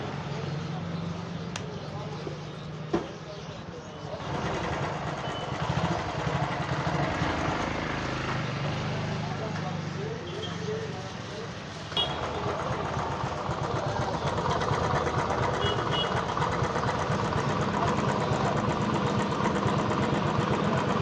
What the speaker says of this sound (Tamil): இப்போ நம்ம வண்டியை ஸ்டார்ட் பண்ணலாம்.